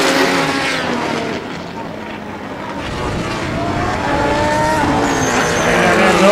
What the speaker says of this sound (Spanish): El 8 acelerando y descompresionando rápidamente en la curva 14.